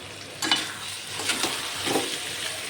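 Chicken pieces frying in oil in a pan for a curry, giving a loud continuous sizzle with a few stirring scrapes partway through, with no voices.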